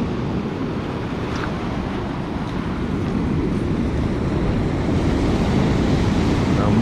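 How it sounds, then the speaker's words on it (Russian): A constant heavy roar of stormy Black Sea waves at Lazarevskoye mixed with wind buffeting the microphone, loud and unbroken throughout. "На море штормик."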